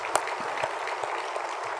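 Congregation applauding during a Sunday worship service at a church in Jeonju, Korea: steady dense clapping for nearly two seconds, moderately loud and even, with no voices over it.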